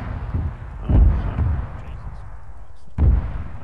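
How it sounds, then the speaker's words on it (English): Artillery fire in the Arma 3 video game: a few deep, heavy booms roll in, one near the start and another about two seconds later, with low rumble between and voices talking quietly. "Artillery."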